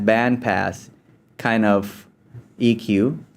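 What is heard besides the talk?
No everyday noises stand out.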